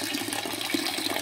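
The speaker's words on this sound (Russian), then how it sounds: "Открываю кран и сливаю сусло после промывочной воды." Wort drains from the tap of a mash tun after the rinse water, a steady, close rushing pour of liquid that runs continuously with no talking.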